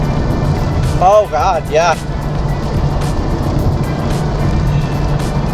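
A 2025 Honda Civic Type R holds fourth gear through a long sweeping corner, its steady engine and road roar filling the cabin, with a brief excited voice near the start.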